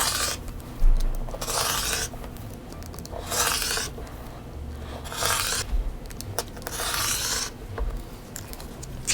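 Rotary or blade cutting through quilting fabric strips along a ruler, a series of close raspy scraping strokes in repeated bursts with no talking.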